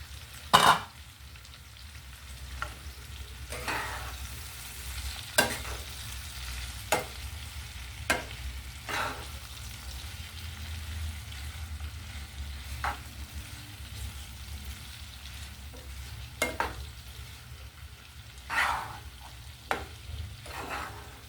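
Capsicum curry fries gently in a pan with a soft, steady sizzle, broken at intervals by scraping stirs of a spoon against the pan, near and fairly quiet.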